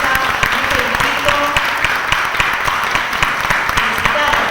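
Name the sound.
audience applause for the Colegio de Abogados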